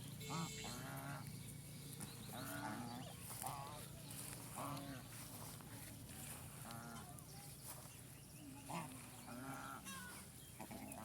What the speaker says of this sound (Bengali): দেশি রাধা হাঁস দেখতে অনেক সুন্দর